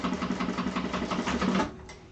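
A sewing machine stitching a leather Penny Inn wallet, a fast even run of mechanical needle clatter that stops abruptly near the end, leaving a faint quiet tail.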